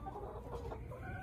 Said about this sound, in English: the chickens want to sleep up above the perches where they feel safer